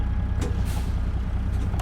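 Air brakes on a truck in American Truck Simulator, with a Caterpillar 3406B engine idling low underneath, releasing in short bursts of hissing air over the constant diesel rumble.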